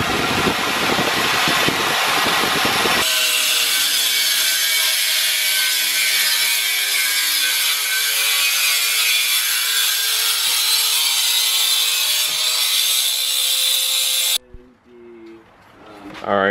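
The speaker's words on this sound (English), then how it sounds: "We'll drill it out first so we can use a bolt." Drill grinding steadily through a metal caliper bracket on a Cobra independent rear suspension, a loud sustained whir with shifting pitch for over ten seconds, ending abruptly.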